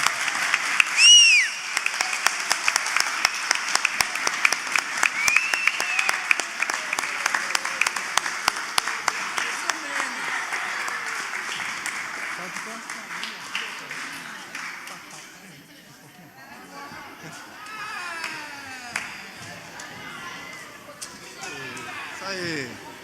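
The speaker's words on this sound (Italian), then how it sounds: "chiedo a questi baldi uomini che facciano un applauso degno di tutta la moltitudine che c'è qua davanti a voi" Men in a church congregation in Verona applaud during a worship service, with steady rhythmic clapping mixed with some loose, scattered claps. The clapping runs for about fifteen seconds and then dies away, and voices carry on after it.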